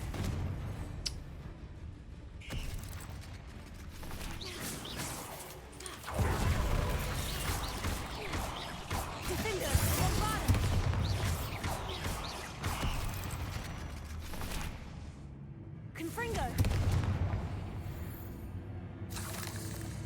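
Confringo fire spells blasting in the video game Hogwarts Legacy, heavy booming impacts and crackling bursts that come in waves, loud and dense, with explosive swells recurring over a steady rumbling game soundscape.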